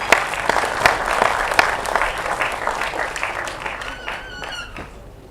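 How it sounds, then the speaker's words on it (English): Audience at a panel discussion breaks into loud, sustained applause to welcome Ekta Kapoor, dense clapping filling the room and tapering off toward the end. "a roaring round of applause for Ekta Kapoor at this point in time"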